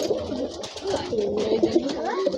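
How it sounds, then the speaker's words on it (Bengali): Pigeons coo softly and repeatedly beside a nest with eggs and chicks, a close, murmuring series of throaty calls with no speech. "এই দেখুন পায়রা,"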